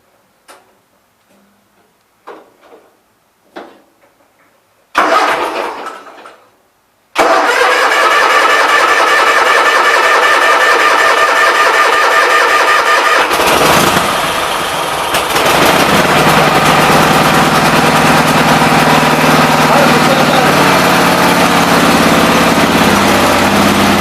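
Small engine with a freshly cleaned carburetor, several pull-cord tugs and a short sputter, then it catches and runs at a loud, steady rattling idle that shifts tone slightly partway through.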